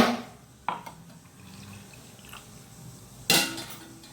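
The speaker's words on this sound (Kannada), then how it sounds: "ಉಪ್ಪಿನ ನೀರನ್ನು ಇದಕ್ಕೆ ಸ್ವಲ್ಪ ಹಾಕ್ಕೊಂಡು ಮಿಕ್ಸಿಗೆ ಕ್ಲೀನ್ ಮಾಡಿಕೊಂಡು" Salt water is poured into a mixer grinder jar to rinse out masala, giving two short splashing pours with a gentle drip and slosh between them, close and with no voices.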